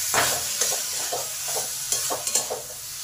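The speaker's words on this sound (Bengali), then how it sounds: "দেখুন কষতে কষতে টমেটোগুলো কত তাড়াতাড়ি নরম হয়ে গেছে।" Spices and tomatoes fry in a wok for an egg curry with potato, soybean and kohlrabi, a steady sizzle broken by repeated close scraping strokes of a spatula against the metal, with no one speaking.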